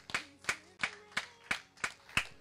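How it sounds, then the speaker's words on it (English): A church congregation clapping in a slow, steady rhythm, seven crisp hand claps spaced evenly apart, fairly close and with no talk over them. "I heard two hand claps."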